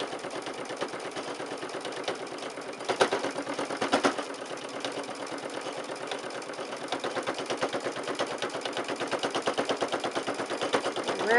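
A sewing machine stitches slowly through several layers of quilted pot holder batting, giving a steady, close, rapid mechanical chatter with a brief louder surge partway through, and no voices.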